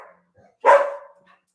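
An energetic house dog lets out one sharp, close bark, with faint murmurs of a voice before and after.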